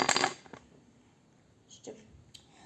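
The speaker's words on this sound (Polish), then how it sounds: "Kluczyk od szafki, bo mam w szkole szafkę." A small school locker key is handled, giving a bright metallic jingle at the start, then a few light clinks near and moderately loud, with no talk.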